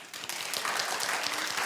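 An audience clapping in response to a host's question, a full, steady burst of many hands starting quickly and holding at even strength throughout.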